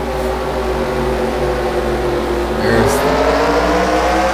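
Race cars idle and rumble on the track in the 2012 HARC Summer Series at Ottawa as the pace car pulls into pit road, a steady dense engine drone with a slight rise near the end.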